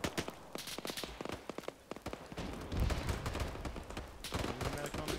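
Sustained suppressive rifle and machine-gun fire in the military shooter Arma, rapid irregular bursts cracking close and loud, with shouted voices mixed through the firing.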